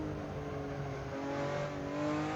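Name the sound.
Ruf RT12R car on track under throttle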